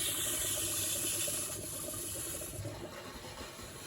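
Water hissing and sputtering from a tap in a continuous rushing stream, fairly close, with no voices.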